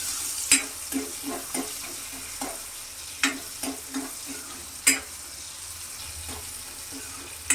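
Peeled small shallots frying over fairly high flame for a Tamil brinjal vatha kuzhambu, a steady sizzle broken by repeated scraping stirs of a spoon in the pan, close and moderately loud.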